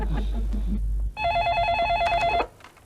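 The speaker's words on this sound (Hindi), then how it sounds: "Sheetal, you receive all my phone calls, okay?" An office telephone rings in an electronic warbling burst of about a second and a half, loud and close, after a moment of muffled low rumble.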